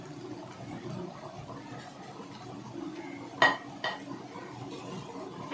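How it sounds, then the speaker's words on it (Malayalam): Toasted bread cubes are mixed with masala in a pan for masala bread, a low scraping shuffle under room noise, with two sharp metallic clinks of a spoon against the pan partway through. "നന്നായിട്ട് നമുക്ക് മിക്സ് ചെയ്യാം."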